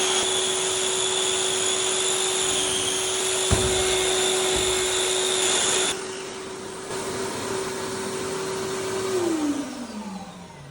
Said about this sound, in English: The vacuum starts after a 3-second delay and runs 8 seconds after shutdown to clear